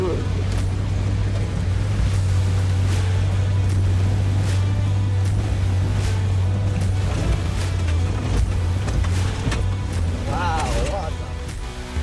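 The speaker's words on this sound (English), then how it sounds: "I threw the cruiser at it and the vehicle roared through, throwing out mud and water to either side" A Toyota Land Cruiser pushes through waterlogged moorland ruts, a loud steady engine drone with rushing, splashing water and wind buffeting, while someone talks throughout.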